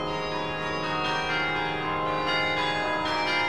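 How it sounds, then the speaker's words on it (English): Many bells of the Washington National Cathedral's Kibbey Carillon ring together in a rich, sustained wash of overlapping tones, loud and continuous with no voices. "When I play the bells, I'm usually by myself"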